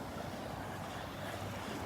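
Steady surf rolls in on a rough patch of water over a sandbar at Delnor-Wiggins beach on a rainy morning, forming a continuous, fairly loud wash with wind noise.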